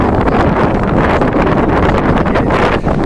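Strong wind at the Hooghly riverbank in rainy weather buffets the microphone in a loud, continuous rushing roar with no pauses, close and dominant throughout.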